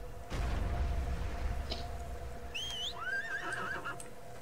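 Horse in ArcheAge neighing twice in a shrill, wavering whinny late in the moment, heard over a steady game backdrop of low rumble and ambient hum, fairly near and clear.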